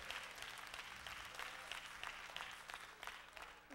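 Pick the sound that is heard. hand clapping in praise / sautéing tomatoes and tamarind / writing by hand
hand clapping in praise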